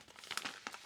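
A paper envelope nested inside another envelope crinkles and rustles as it is opened by hand, with a series of short crackling bursts close by and no talk.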